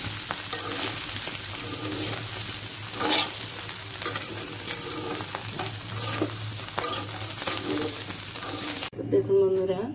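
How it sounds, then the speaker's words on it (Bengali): Rice and lentils being fried and stirred in a pan with biryani spice before going into a pressure cooker, a continuous close sizzle with scraping of stirring and a voice talking over parts of it. "চাল এবং ডালটাকে আমি ভালোভাবে ভেজে প্রেশার কুকারে দিয়ে দিয়েছি।"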